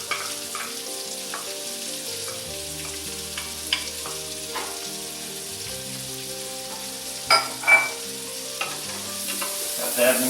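Yellow onion sizzles with bacon in a pot for lobster chowder, a continuous frying hiss with occasional stirring scrapes, close up over a faint steady tonal background.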